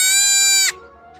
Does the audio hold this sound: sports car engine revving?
no